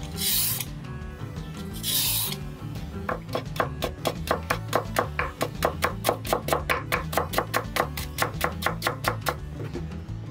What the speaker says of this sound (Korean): 흙당근은 껍질을 벗기고 오이와 똑같이 채 썰어줍니다